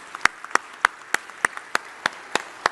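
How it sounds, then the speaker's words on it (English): Sparse, scattered claps from a small audience at a security conference panel, about ten separate sharp hits spread unevenly across a couple of seconds, close and fairly clear with no voices. "give our speakers a final round of applause"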